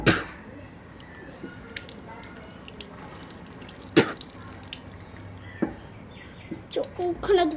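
Water from a tap splashes and drips intermittently as someone washes their eyes at a sink, with sharp splashing bursts, quiet running water between, and faint birdsong in the background.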